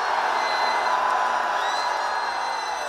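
A rally crowd at a Korean political launch event roars a sustained forward-facing shout, a dense wall of many voices cheering steadily and loudly throughout without dropping off.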